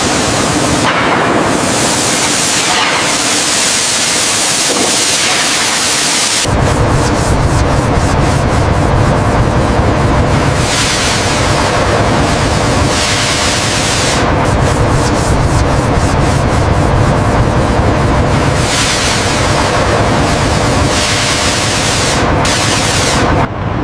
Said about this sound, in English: The entire teak deck is sanded by hand using large blocks of sandstone called